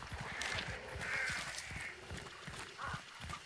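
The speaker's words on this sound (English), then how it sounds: "Oh, there's a crow still there." Crows caw repeatedly in a field in the game Hunt: Showdown, a series of hoarse calls at moderate distance over low thudding movement sounds.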